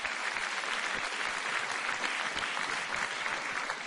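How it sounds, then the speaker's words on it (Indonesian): Sustained applause from a large crowd for President SBY at a presidential inauguration ceremony, steady dense clapping that fills the space evenly throughout, heard from a distance. "Kita berikan tepuk tangan untuk Presiden SBY."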